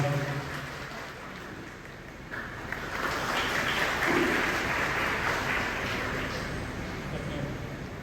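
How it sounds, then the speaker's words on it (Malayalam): An audience at a Navaratri festival stage event breaks into sustained applause, a dense, even clapping that swells in the middle and holds for several seconds before easing slightly. "നല്ലൊരു കയ്യടി നമുക്ക് കൊടുക്കാം"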